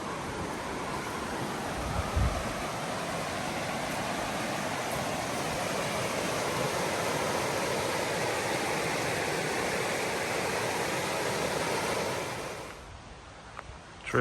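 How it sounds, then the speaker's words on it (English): River flowing beside a hiking trail in Linville Gorge Wilderness, a broad steady rushing wash of water, fairly close and even, fading down near the end. "It's been nice to hear the sound of the river."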